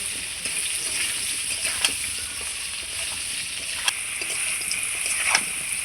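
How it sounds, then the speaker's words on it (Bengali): Potatoes seasoned with salt and turmeric fry in a pan with a steady, even sizzle, joined by a few sharp clinks and scrapes of stirring. "আলুটা দেখুন আমি কত সুন্দর করে ভেজে নিচ্ছি"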